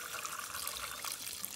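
Water is poured into a water pump to prime it, a faint, steady trickling splash of liquid filling the pump body.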